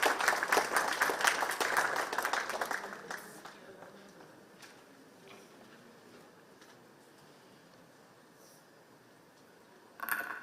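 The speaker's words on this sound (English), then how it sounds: "Could you please have a big round of applause?" An audience at a gathering bursts into clapping that is loud at first, thins out and fades by about four seconds into a quiet room, with a brief burst of sound returning at the very end.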